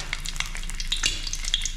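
Fish frying in a pan, a brief close burst of crackling sizzle with light stirring, with no voices.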